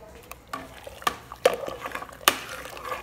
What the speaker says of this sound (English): You could stir up.